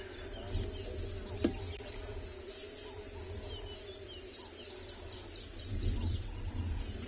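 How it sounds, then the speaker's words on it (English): Many birds call around an open-vehicle afternoon safari drive in South Africa, scattered chirps and trills at a moderate distance over a steady hiss of insects and wind, with no one talking. "You can hear there's also a lot of birds around us."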